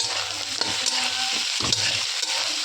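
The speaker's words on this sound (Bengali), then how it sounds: "এখানে আলু দিয়ে ভালো করে নেড়ে চেড়ে নেব" Raw potatoes stirred in a pan with lightly fried onions for a pui fruit chochchori, a steady close sizzle broken by scraping spatula strokes.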